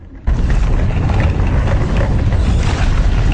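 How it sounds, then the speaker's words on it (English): Loud, harsh grinding and crunching from machinery in the grinding room of the video game System Shock 2, kicking in abruptly and roaring continuously with rumbling low noise. "screaming over the horrible crunching noise in the grinding room"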